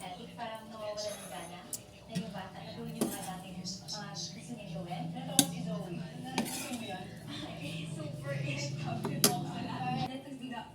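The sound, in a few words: food being transferred into a small bowl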